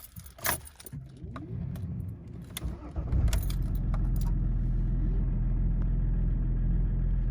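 Diesel car engine being started after a diesel purge injector-cleaner treatment: keys jangle first, then the starter cranks and the engine catches around three seconds in and settles into a steady, close, rumbling idle with no voices.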